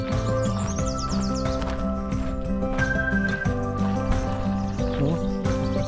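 Birds chirp in quick, high bursts over a dense, steady background of layered tones, with a few faint knocks scattered throughout.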